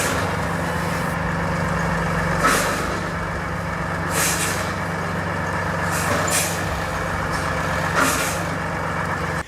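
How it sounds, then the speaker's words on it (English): A heavily loaded logging truck labours along a muddy track, its engine droning steadily while several sharp hisses and bursts break in at intervals, fairly close, with no talking. "This logging truck is actually wheeling, and that too while carrying the load."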